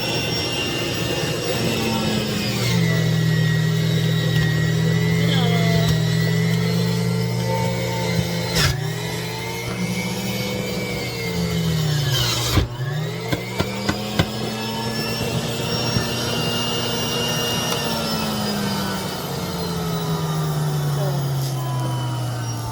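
A juicer runs loudly and continuously while processing carrots, cantaloupe and orange, its motor pitch shifting as produce is pushed through, with a person talking over it.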